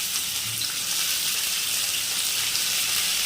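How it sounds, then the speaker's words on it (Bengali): Chopped onions sizzle and fry in hot white oil in a wok, a steady close crackling hiss that holds evenly throughout with no talking. "একটু সাদা তেল দিয়েছি কড়াইতে, তেলটা গরম হয়ে গেছে, পেঁয়াজ কুচিগুলো দিয়ে দেবো"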